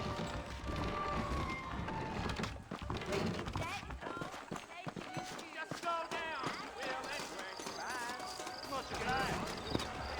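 Horses trot along in the Red Dead Redemption video game, hooves clip-clopping steadily at a moderate distance with an occasional whinny, under game music and characters talking.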